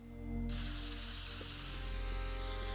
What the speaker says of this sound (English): I'm going to try and draw a yellow line using the spray can halfway between this.